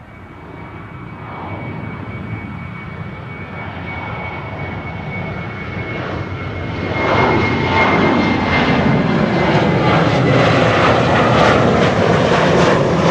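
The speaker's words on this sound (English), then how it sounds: "KLM flight 1231. We'll be leaving for Göteborg. It's coming this way already, 737-800." A KLM Boeing 737-800 takes off from Schiphol runway 24 and heads toward the listener, its jet roar building steadily and growing louder and nearer, with no voices over it.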